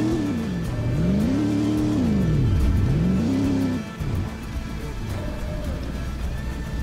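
Engine revving and wailing through a road drift in a Donk racing setting, four-speed gearing, pitch sweeping up and down in long arcs before settling into a steadier drone, loud and close with no talk.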